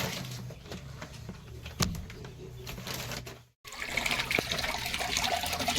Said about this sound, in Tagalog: Nadagdagan ko pa ng tubig.